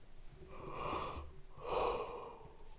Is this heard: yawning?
yes